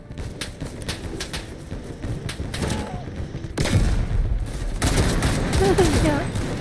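Video game gunfire crackles in rapid bursts, growing denser and louder in the second half amid chaotic battle noise.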